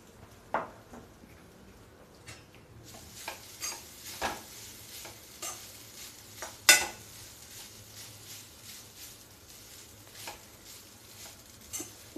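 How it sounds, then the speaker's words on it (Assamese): Grated coconut filling with sugar and cardamom fries in a pan for patishapta, a steady soft sizzle broken by repeated scraping strokes and light clanks of the spoon against the metal; no speech. "প্ৰথমে মই ফিলিঙৰ নাৰিকলখিনি ভাজি ল'ম"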